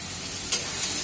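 Food frying in a pan with a steady, close sizzle and a brief louder scrape of stirring midway.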